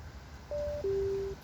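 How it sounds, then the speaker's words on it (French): Sony SRS-XB12 Bluetooth speaker pairing sound: two short clean electronic tones, a higher beep dropping to a longer lower one, clear and alone over a quiet background. "Pour le bruit d'appareillage, on a SR6B12."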